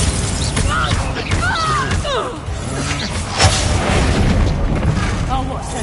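Bombarda spell explosion in Hogwarts Legacy, a loud boom and crash among game sounds, with voices and chatter running throughout.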